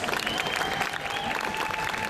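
A large Manchester crowd at an outdoor athletics event cheers and applauds steadily for Olympic heptathlete Jessica Ennis, a dense, continuous roar of clapping and whoops with no break across the whole stretch.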